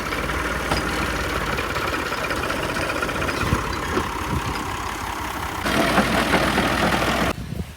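A tractor engine idles with a steady low rumble and slight knocking, close and unchanging for several seconds before a brief louder stretch near the end.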